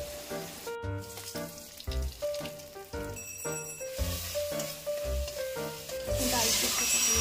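Cumin seeds, dried chili and bay leaf hit hot oil and crackle loudly, with sharp bursts of sizzling and spatter close up that build into a continuous hiss; clanks and stirring noises come between the bursts.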